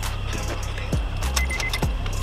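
A set of car keys jangles close by in a few quick metallic bursts over a steady low rumble, at an outdoor drifting and racing event.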